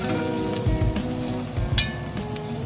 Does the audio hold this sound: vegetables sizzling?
yes